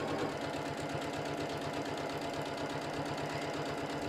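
A sewing machine stitches fabric for a microwavable bowl cozy, a steady rapid mechanical chatter running continuously at close range with no voices over it.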